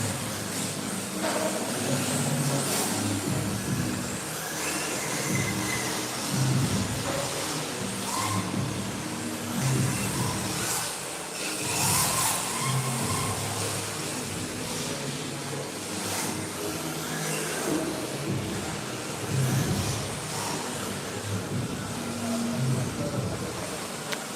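RC drift cars run around a drift track at an RC hobby venue, giving a continuous whirring motor drone with surges and fades as they pass, with no clear talk over it.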